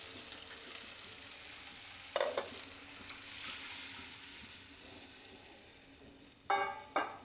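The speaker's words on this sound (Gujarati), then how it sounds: "આપણે જે ગ્રેવી તૈયાર કરીને રાખેલી છે એ કડાઈમાં ઉમેરી દઈશું." Prepared gravy poured into a hot kadai sizzles softly and continuously, with a few brief louder bursts of splattering and stirring near the middle and end.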